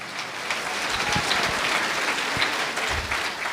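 A church congregation breaks into strong applause, loud, close and continuous, with scattered low thumps under the clapping.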